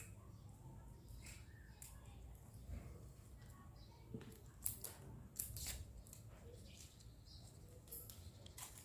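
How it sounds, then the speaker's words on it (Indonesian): Scissors snip through artificial flower stems with wire inside them, giving a few sharp, faint clicks over a quiet room hum. "Kita potong satu persatu menggunakan gunting."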